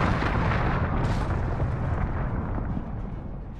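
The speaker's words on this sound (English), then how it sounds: "Allied cruise missile away." A cruise missile blast in the shooter Call of Duty: Modern Warfare, a loud, sustained rumbling roar that fills the whole clip and slowly thins out toward the end, with no voices over it.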